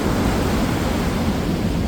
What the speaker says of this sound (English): the waves are so extremely high